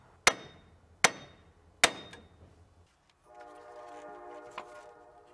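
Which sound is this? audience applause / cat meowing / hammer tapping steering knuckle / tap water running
hammer tapping steering knuckle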